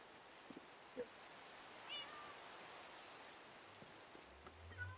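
Cats meowing in the video game Minecraft, a few faint, short mews scattered over a soft rain-like background hiss, quiet and distant with no clear talking.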